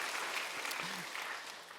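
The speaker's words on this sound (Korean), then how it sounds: "여러분 여기서 박수 한번 쳐주셔야죠" Applause from a church congregation after a sermon praising the senior pastor, a fairly faint, continuous patter that tapers slightly at the end, with a brief voice underneath.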